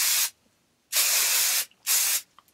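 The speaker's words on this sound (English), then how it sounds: "So I've been using this Living Proof Full Dry Volume Blast." Living Proof Full Dry Volume Blast hair spray from an aerosol can, three close, loud hissing bursts, the middle one longest, separated by silence.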